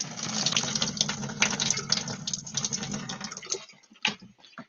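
Water runs steadily from a tap as a small sieve is rinsed under it, a continuous splashing gush that stops near the end and leaves a few drips and clicks.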